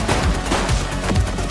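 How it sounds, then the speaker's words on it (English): A suspect shooting during a gunfight in the police game The Precinct, a quick flurry of muffled, overlapping shots rattling off in close succession over a short burst. "She's shooting!"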